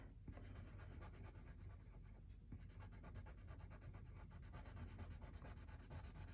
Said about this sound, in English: I'm going to shade up and down vertically